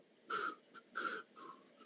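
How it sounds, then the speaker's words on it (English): Heavy, wheezy breaths close to a microphone, three loud exhalations with a fainter one between, no talking. "I can hear heavy breathing."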